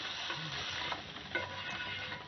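Chicken pieces going into a thick masala gravy for butter chicken and being stirred in a pan, a steady low sizzle with soft scraping and a couple of small clatters, close and without voices.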